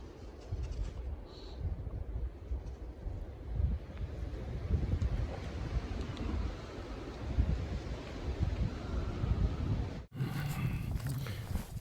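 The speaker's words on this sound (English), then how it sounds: "It's a little windy up on this ridge" Strong wind buffets the microphone on an exposed Appalachian Trail mountain ridge, a steady loud roar and rumble with gusts, cutting off abruptly near the end.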